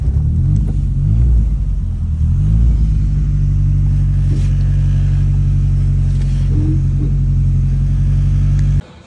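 Turbocharged square-body VW Gol on 18-inch wheels pulls away from a traffic light, its engine a loud, steady low rumble close by that holds throughout before cutting off at the end.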